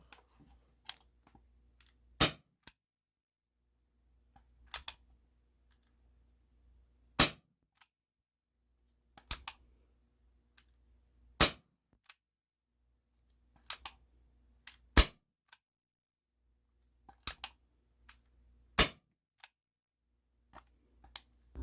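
An ASG CZ 75D Compact airsoft pistol fires indoors, giving about a dozen sharp, loud pops spaced a second or more apart with small clicks in between, and no speech.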